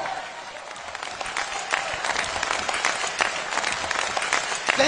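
A crowd applauds steadily through the whole stretch at a motivational speech event: dense, continuous clapping from a large audience, fairly loud and even, with no voices over it.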